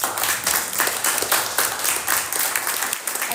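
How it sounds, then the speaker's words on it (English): Applause for a panel at a music-focused meetup: a steady, moderately close crowd of hands clapping throughout, even and unbroken, with no voices over it. "Let's give our panelists a quick round of applause."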